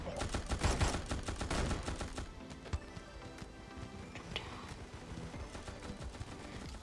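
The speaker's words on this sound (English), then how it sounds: "I'm looking for someone new that I would like to show shotgun pellets to." In the shooter game Gods of Boom, a shotgun goes off in a dense burst of loud blasts early on, followed by sparse sharp shots and clicks amid scattered game sounds.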